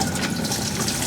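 Water is pumped in, a steady rushing gush of liquid filling, loud and continuous for a short moment.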